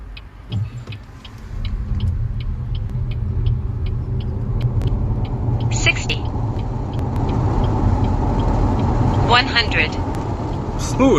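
A BYD Yuan Plus electric car accelerates from 0 to 100 km/h, giving a low rumbling road and tire roar with a rising whine inside the cabin, while people talk over it and short beeps sound at regular intervals.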